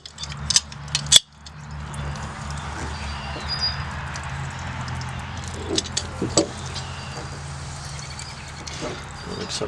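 A reverse-threaded plastic fitting on a rain barrel being twisted tight by hand, with a few sharp clicks and creaks at the start, then faint intermittent scraping and ratcheting over a steady outdoor hum.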